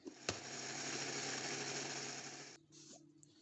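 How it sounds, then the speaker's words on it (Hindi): A kitchen grinder whirs loudly and steadily as it blends a homemade Nutella mixture with added oil, then cuts off abruptly near the end, leaving quieter clatter. "ये हम इसमें ऑयल शामिल करेंगे, और इसको दोबारा से हम जो है ना ये ग्राइंड करेंगे"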